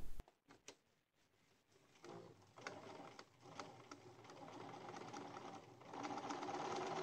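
A sewing machine stitches a lined sleeve hem on a 1950s beach coat, running in uneven bursts as the fabric is turned and repositioned under the needle, starting faintly and growing steadier and louder toward the end.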